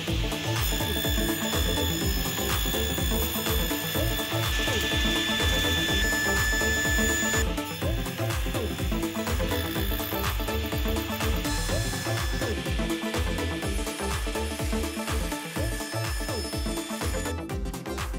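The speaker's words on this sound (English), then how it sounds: "Got my old blade on here so I can go through this aluminium very slowly" A table saw fitted with an old blade cuts slowly through aluminium, a loud sustained whine with high metallic screeching and a rough grinding rattle, continuous and close throughout, with no talking.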